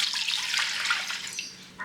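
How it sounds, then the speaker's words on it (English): Warm milk poured into a bowl for a sardine roll dough, a steady close liquid stream with a light splashy hiss throughout, ending with a small splash. "I'm going to pour in the warm milk in here"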